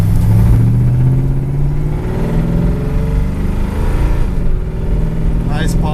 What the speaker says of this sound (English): Nice positive shift into second.